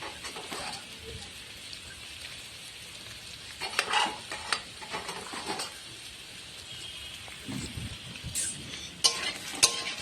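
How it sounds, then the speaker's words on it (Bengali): A spiced potato mixture with fried chili and cumin powder being stirred in a pan: a faint, continuous sizzle with intermittent spatula scrapes and louder stirring bursts near the middle and end. "এটাকে এবার নেড়ে নিতে হবে।"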